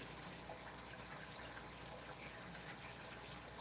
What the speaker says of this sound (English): Now I'm going to pump the water out of the main first barrel